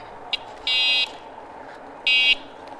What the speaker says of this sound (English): Got a nice loud electric horn.